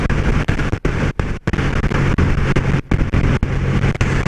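Triumph Bonneville motorcycle on a test ride, its engine droning steadily under heavy wind buffeting, with brief dips where the rush of air drops away.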